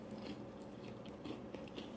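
Crunchy fried akara bean fritters being bitten and chewed up close, a quiet run of crisp crunches with no talk.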